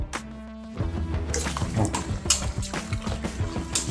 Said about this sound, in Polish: I teraz zostało to wszystko ładnie tylko wymieszać ręką.